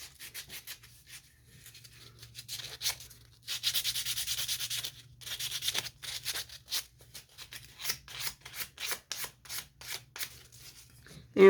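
Hand sanding of a handmade wooden item in a shop, in bursts of rapid back-and-forth rasping strokes with short pauses between them, close and fairly quiet.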